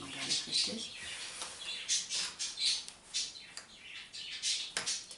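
Birds chirp and squawk in short, high calls repeated throughout at moderate volume.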